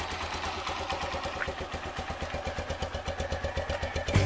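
A Motorstar motorcycle engine runs close by with a steady, fast, rhythmic throb, a deep pulsing beat at an even idle-like pace, and rises slightly just at the end.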